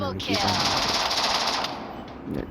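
Rapid automatic fire from a Groza rifle in a shooting video game comes as a loud, close burst lasting over a second, followed by a brief second volley, with a voice talking faintly.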